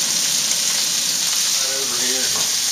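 Pork tenderloin frying in a pan over medium heat gives a steady, close hiss of sizzling fat, with faint stirring or scraping near the end.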